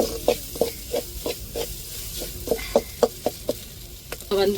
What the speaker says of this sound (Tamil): நல்லா தேங்காவை எண்ணெயில் வதக்கி விட்டுறணும் தாளிப்பில்.